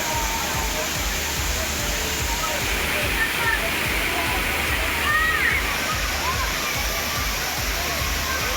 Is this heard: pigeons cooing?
no